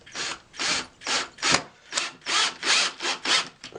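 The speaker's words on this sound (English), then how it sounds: "Let me talk after I'm done drilling." A drill boring into a jig used for forming cuff bracelets, running in about nine rhythmic, evenly spaced grinding bursts, close and fairly loud with no talking.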